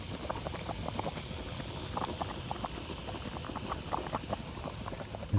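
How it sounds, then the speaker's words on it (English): Corn sizzles and bubbles in a pot over a campfire with dense, crackling pops over a steady low rumble, close and continuous with no talking. "You can hear the corn sizzling."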